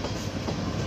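An EMD GP38-3 diesel locomotive rumbles loudly past at close range, a dense continuous roar of engine and wheels.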